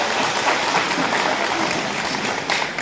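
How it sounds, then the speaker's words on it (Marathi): Dense, continuous applause from an audience at a gathering, the clapping steady and loud throughout with no gaps, as a crowd responds to a call to clap hard. "सर्वांनी एकदा जोरदार टाळ्या वाजायच्या जोरात जोरात"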